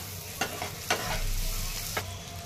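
Onion sautéing in a pan makes a steady background sizzle, with three sharp taps of a spoon against the pan spread across the stretch and a low hum underneath.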